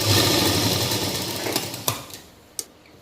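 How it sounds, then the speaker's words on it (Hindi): A sewing machine runs along a palazzo hem in a short steady whir that fades out, followed by a few sharp mechanical clicks as it stops. "इस तरीके से हम सुई को अंदर की तरफ रखते हुए टर्न करेंगे और यहाँ पे सिलाई लगा देंगे"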